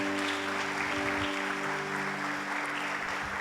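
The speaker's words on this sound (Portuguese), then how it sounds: "Vamos aplaudir ao Senhor." Steady applause from a church congregation, continuous and fairly loud, with a sustained musical tone underneath.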